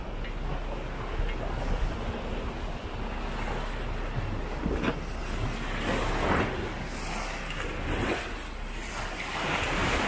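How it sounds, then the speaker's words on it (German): Strong 30-knot wind and waves at sea off Madeira, heard aboard a sailing boat: a loud, continuous roar of wind buffeting the microphone, with surging swashes of water rising and falling throughout. "Momentan hier unsere 30 Knoten Wind."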